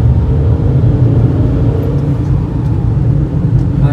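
A car driven along a narrow road on the way to Roha, heard from inside as a loud, steady engine and road rumble with no break.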